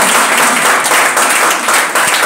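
A church congregation breaks into loud, sustained applause acclaiming the word of God, a dense wash of clapping from many hands that stays steady for the whole stretch.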